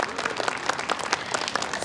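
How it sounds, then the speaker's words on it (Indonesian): Debate audience applauding the candidate pairs, a dense, fairly loud burst of many hands clapping that carries evenly through the short stretch. "kita berikan tepuk tangan untuk pasangan calon nomor urut 1 dan 4"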